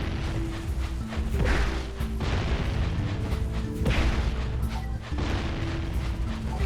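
Bomb blasts in Jak and Daxter: The Precursor Legacy HD on PS3, heavy booming crashes rising out of a loud continuous game soundscape, with a couple of stronger hits standing apart.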